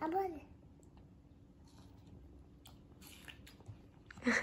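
A child bites and chews watermelon up close, with soft wet crunches and mouth noises over a quiet background, ending in a louder burst of voices.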